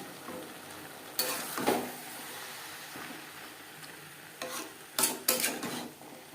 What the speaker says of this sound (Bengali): হাই ফ্লেমে 4-5 মিনিট নাড়াচাড়া করে নেব